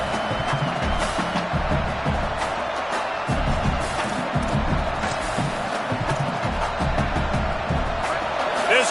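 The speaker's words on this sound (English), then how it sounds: "This crowd trying to make life miserable for this offense." A college football stadium crowd at an LSU versus Oklahoma game roars in a loud, continuous wash of noise that swells and dips, with a commentator's voice running over it.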